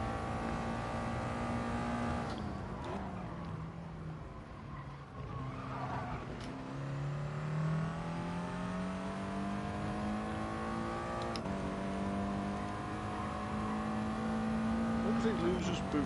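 A turbocharged race car engine in a racing game, revving high and bouncing off the rev limiter, with rising and falling engine pitch sweeps and occasional tyre squeal over a sustained drone.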